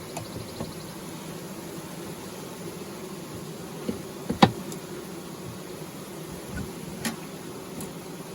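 Honey bees buzz at a long hive during an inspection, a faint continuous hum punctuated by a few sharp clicks and knocks.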